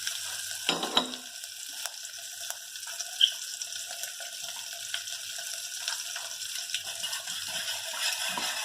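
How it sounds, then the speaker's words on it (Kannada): Curry leaves and garlic frying in hot oil for a toor dal rasam, a faint steady sizzle and crackle with a sharp splutter near the start, continuing evenly with no talk. "ಕರಿಬೇವು ಹಾಕ್ತಾಯಿದ್ದೀನಿ. ಬೆಳ್ಳುಳ್ಳಿ ಹಾಕ್ತಾಯಿದ್ದೀನಿ 3."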